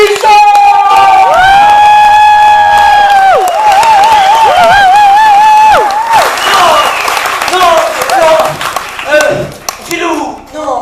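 A live comedy-show audience applauds and cheers loudly as a comedian is introduced, with bright sustained whoops and shouts over dense clapping, ebbing toward the end as voices carry on.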